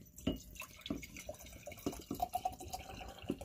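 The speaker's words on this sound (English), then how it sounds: "So, we're going to pour the white vinegar." White vinegar poured into a container, heard as a series of close, irregular splashes and drips of liquid with no voices.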